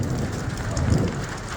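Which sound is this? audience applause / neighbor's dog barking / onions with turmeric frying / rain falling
rain falling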